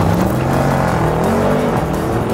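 A Mercedes E63S AMG accelerates hard in a quarter-mile standing-start drag race against an Audi RS6, its engine a loud, sustained roar with rising pitch, close up and with no one talking.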